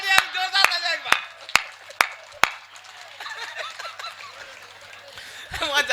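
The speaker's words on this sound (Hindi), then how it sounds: "जोरदार तालियां एक बार" A handful of sharp, spaced claps at a kavi sammelan comic poetry recital in Kathumar, mixed with chuckles, laughter and a voice talking over them.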